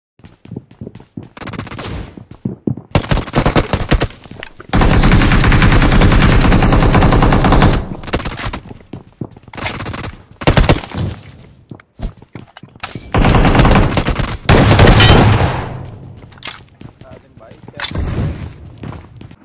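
Loud gunfire in a PUBG battle, including shotgun blasts, comes in dense bursts of rapid shots broken by short gaps, close and harsh, with a voice talking between volleys.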